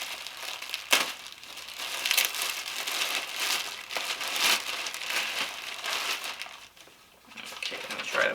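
A small plastic baggie crinkles and rustles up close in bursts of crackling as a paper receipt is pulled out of it.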